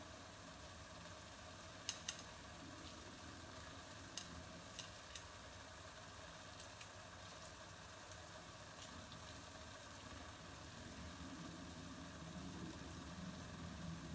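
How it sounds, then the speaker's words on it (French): Faint, steady sizzle from a saucepan of seafood blanquette simmering on the stove, a soft continuous hiss with a few small clicks near the start and no talk. "Vous entendez encore notre casserole qui chante."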